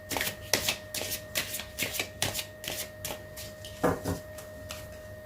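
Tarot cards shuffled by hand in a quiet room, a steady run of crisp papery riffles and slaps repeating about every half second, close and clear with no talking.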